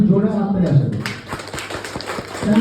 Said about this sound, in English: increase the amount of clap so that the students get motivated